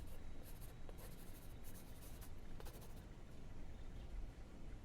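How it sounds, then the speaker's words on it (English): Pen writing notes on paper: quiet, close scratching and scribbling strokes in short bursts, soft and intimate with no talking. "I'm just going to write that down."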